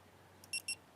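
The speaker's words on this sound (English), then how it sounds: "You're going to press that until you hear 2 beeps" Two short, high electronic beeps in quick succession from a dog training collar as its power button is held, fairly faint against a quiet background.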